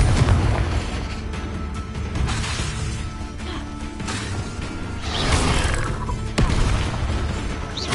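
In Hogwarts Legacy, a Confringo fire spell and other combat spells go off in a dense, loud stream of booms, bursts and crashes with no pauses.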